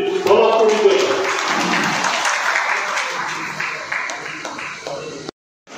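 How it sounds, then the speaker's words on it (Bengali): A crowd at an outdoor food festival applauds a local Indian Idol participant, loud dense clapping with voices mixed in that fades gradually before cutting off. "আপনারা সকলে একটা জোরে হাততালি দিন পলকপুরিতে।"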